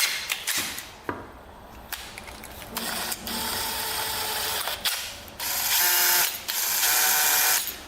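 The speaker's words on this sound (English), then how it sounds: "Put it in the drill and we'll see what that looks like." A power drill spinning a valve from a Honda XR250 dirt bike whirs in uneven bursts, revving and stopping several times, close and loud with a rattling mechanical edge.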